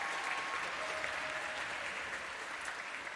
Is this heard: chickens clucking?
no